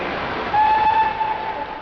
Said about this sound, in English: The Elizabethan, the 9:30 non-stop to Edinburgh at platform 5, is about to leave.